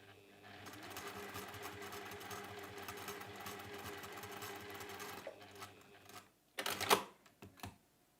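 Sewing machine tacking three layers of fabric together a quarter inch from the edge, a steady rapid mechanical whir for about five seconds, then stopping, followed by a few sharp clicks and handling knocks.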